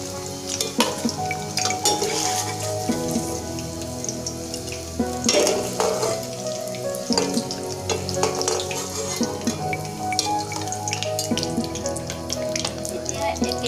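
Paneer pieces frying in oil in a kadai, a continuous bubbling sizzle with occasional clinks and scrapes from stirring, close and moderately loud.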